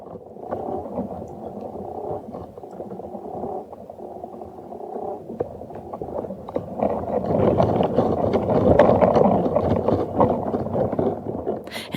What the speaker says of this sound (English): And this one is an alpine meadow.